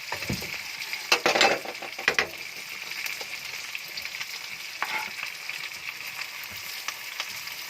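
Kimchi fried rice with meat, garlic and onion sautéing in a pan: a steady close sizzle and fry, with scraping and stirring clatter from a spatula that is busiest early on.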